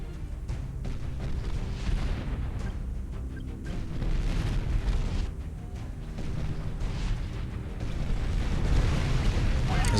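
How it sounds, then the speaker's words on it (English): Mammoth tanks firing on a Zeus in a strategy video game, heavy booming cannon shots and explosions rolling one after another under a dense, continuous battle din. "My mammoths are firing at this one Zeus."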